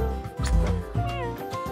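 A cat meows once in a video game, a short, clear, fairly close call with a falling, slightly strained tone, heard alone without talking.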